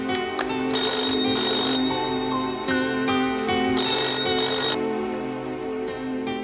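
A telephone rings in repeated double bursts of bright electronic bell tones, loud and close, with no talking.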